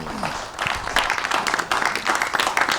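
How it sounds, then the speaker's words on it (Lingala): Studio audience applauding at a televised debate in the DRC, steady clapping spread across the room for about three seconds, fairly close and even in level. "merci, on peut encore applaudir."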